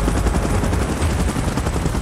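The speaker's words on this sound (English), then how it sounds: "Chopper in position." Helicopter in the PUBG Mobile battle game, a steady loud rotor chop mixed with dense gunfire bursts throughout, no talk.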